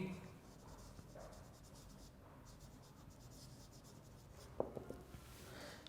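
Quiet, steady scratching of a pen writing during an online English lecture, close and faint, broken near the end by a few sharper taps, with a faint voice in the background.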